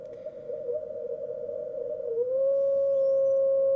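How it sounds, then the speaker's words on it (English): Radio interference birdies on a 20 m receiver come through as a steady whistling tone that slides down slightly and then settles into a louder, unwavering whine over a faint hiss of background noise. "This is interference I get periodically here, it's like birdies."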